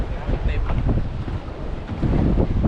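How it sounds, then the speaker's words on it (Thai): Strong wind buffets the microphone on a boat at sea during squid fishing, a steady loud roar with water and hull noise beneath it. "วันนี้วันลมแรง"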